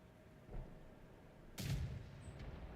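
Two artillery shots from the World of Tanks console game, one faint near the half-second mark and a louder, fuller boom later that trails off. The game's background ambience runs throughout.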